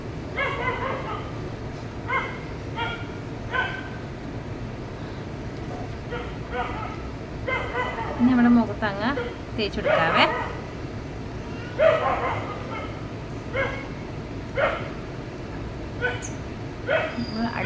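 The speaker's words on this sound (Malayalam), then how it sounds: "അപ്പുറത്തെ വീട്ടിലെ പട്ടിയാണ് കേട്ടോ" A neighbouring house's dog barks and yips in repeated short bursts from a distance, heard under someone talking in a home kitchen.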